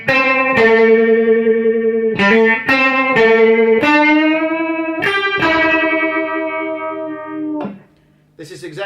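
Electric guitar run through a tremolo effect set to a chorus-style sound, sustained shimmering notes and chords ringing out loud and close, alone with no talking, fading near the end.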